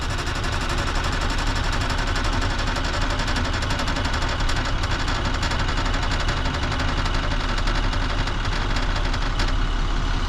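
Class A truck with manual transmission shifted into gear, clutch only partly released, during an air brake test; a steady, loud diesel engine rumble runs throughout with no pauses or talk.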